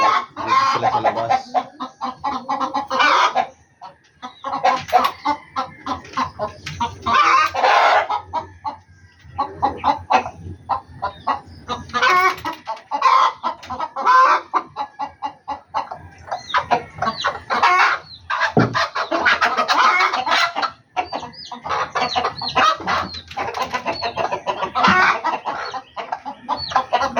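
Several chickens cluck and chatter in close, repeated bursts around a released mother hen, a busy, steady flock noise with short pauses and no voices.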